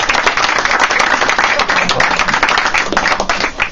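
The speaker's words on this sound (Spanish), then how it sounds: "Pues hay que aplaudirlo." Audience at a live stage event clapping in dense, continuous applause throughout, loud and close, with a voice faintly underneath.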